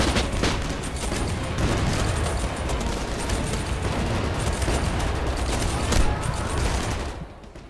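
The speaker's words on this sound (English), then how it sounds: "I hope you're prepared to hear the same explosion sound possibly thousands of times in one level." Dense, continuous gunfire and booming explosions from a Vietnam War video game shooter, with repeated identical mortar blasts over a steady battle din that fades out near the end.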